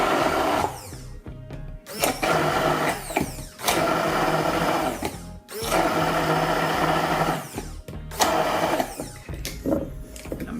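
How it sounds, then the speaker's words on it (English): Hand blender whirring through a blueberry "cannoli" toast topping, a loud steady motor drone in repeated bursts with brief pauses between them, close and continuous, no talking. "I'm doing it with a hand blender just for sake of space and time today"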